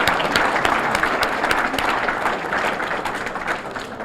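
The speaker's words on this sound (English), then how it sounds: "let's have another big round of applause for our first selectman, Mike Frieda" Sustained audience applause at a town's State of the Town address, a dense, steady roar of many hands clapping with crowd ambience, loud and even throughout.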